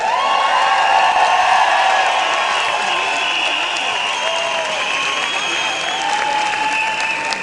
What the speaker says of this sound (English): I'd like you to give a special round of applause to our signer here today